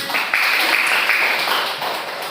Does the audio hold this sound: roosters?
no